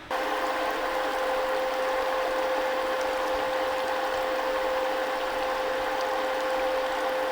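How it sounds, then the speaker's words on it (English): An Aquastrong Smart 45 booster pump lifts creek water about 35 feet uphill into an IBC tote, running with a constant steady whine and a dense watery hiss, close and even throughout with no voices. "The booster pump is currently bringing water up approximately 35 feet from that creek down there"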